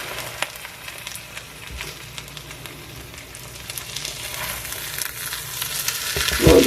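Food frying in an electric skillet set to 400 degrees, a continuous crackling sizzle with sharp pops and a louder flare of spattering near the end.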